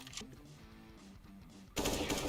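Steyr AUG rifle gunfire in Counter-Strike: Global Offensive on the Inferno map, a short burst of sharp, loud shots that abruptly breaks in over quieter game noise near the end.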